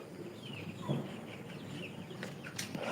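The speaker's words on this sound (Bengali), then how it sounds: "এই মুরগিগুলো যেহেতু এখানে আছে এটা থেকে খাবারগুলো খাবে" Chickens cluck softly and scattered as they peck at feed on a farm, the calls faint and distant over low background noise, with a couple of brief sharper notes.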